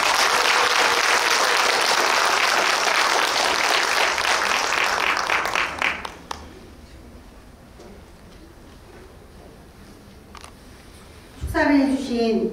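Audience applause at a regional private daycare association conference in Suncheon, a dense crowd clapping loudly for about six seconds before falling away to quiet room tone, then a brief burst of voice near the end.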